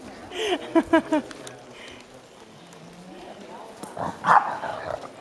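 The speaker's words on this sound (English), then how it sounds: "Damn dogs." Dogs bark in a quick run of several sharp barks, then more barking a few seconds later, fairly close, with people talking around them.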